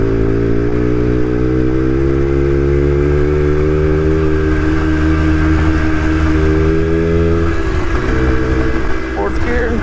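A Suzuki X90 motorcycle engine drones steadily while cruising in fourth gear, a loud sustained hum with constant wind rush close to the rider, easing slightly near the end.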